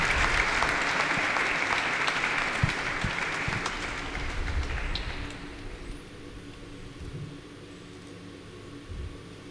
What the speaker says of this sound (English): I'd like that all of us give a nice warm applause to our 13 deacons as a sign of joy